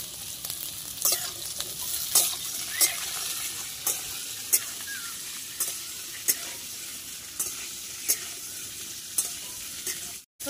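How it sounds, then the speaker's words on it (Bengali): Drumstick stems and potatoes are stir-fried in mustard oil in a pan for a Bengali vegetarian dish. A steady near sizzle runs throughout, broken by a sharp scrape or clack of the spatula roughly every second. No one speaks. "ডাঁটাগুলো দিয়ে একটু কষিয়ে নাড়িয়ে চাড়িয়ে আমি সর্ষে পোস্তটা দিয়ে দেবো"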